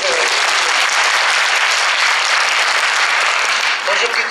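Loud, continuous applause from an audience after a harmonica performance, a thick unbroken roar of many hands clapping that stays strong throughout.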